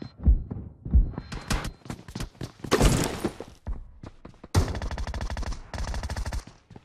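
Gunfire in PUBG Mobile: several loud single shots and thuds, then two long rapid automatic bursts, close and sharp, with no talking.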